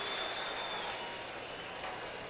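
An arena crowd in Dallas applauds Spud Webb's slam dunk at the 1986 NBA Slam Dunk Contest, a broad, steady wash of clapping and cheering heard from a distance with no talk.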